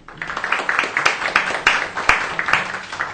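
Audience applause for a speaker at an academic talk on innovation and technological capabilities, a steady patter of many hands clapping throughout with a few sharper claps standing out.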